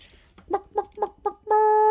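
A hen gives four short, evenly spaced clucks, then one sustained, tuned note, clear and close.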